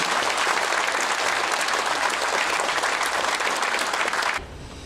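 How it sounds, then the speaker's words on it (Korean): Loud, dense audience applause fills a book launch event for a Korean National Assembly member's publication, sustained steadily before dropping off abruptly near the end. "여러분 큰 박수를"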